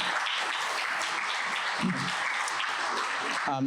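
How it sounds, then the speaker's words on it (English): Audience at a university science cafe applauding, steady dense clapping from many hands sustained for several seconds at moderate distance, with a brief voice near the end. "So claps for the varsity"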